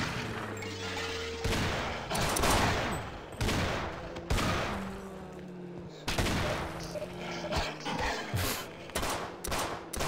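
Sniper gunfire in the video game They Hunger, many loud, sharp shots cracking at irregular intervals in rapid volleys, close and harsh, over droning game sounds, with no talking.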